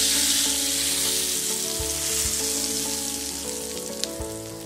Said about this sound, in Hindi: हम इसमें ये टेम्परिंग डालेंगे